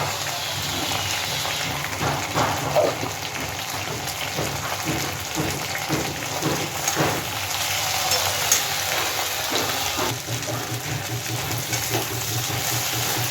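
Ground cumin and coriander spices frying in a pan for a fish curry, a steady hissing sizzle with occasional soft stirring scrapes throughout.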